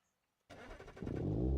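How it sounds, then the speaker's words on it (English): A Hirochi Sunburst engine in BeamNG.drive cranks to life after a short silence, catching with a rough burst and then settling into a louder, steady idle. "Engine on."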